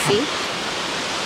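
Rushing water from a waterfall near Vancouver heard as a broad, steady roar throughout, with a brief spoken word at the very start.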